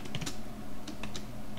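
Perl code is typed on a computer keyboard in a brief, close burst of crisp key clicks arriving in small irregular clusters.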